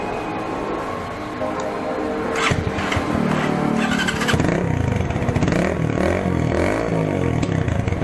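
A Keeway Cafe Racer 152 motorcycle fitted with shorty pipes and a silencer idles briefly, then revs repeatedly in loud, close, throaty bursts that climb and fall.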